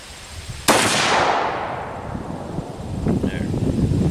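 A single sharp rifle shot cracks out during a youth deer hunt in Upper Michigan, close and loud, its report rolling away into the woods before faint movement and wind noise follow.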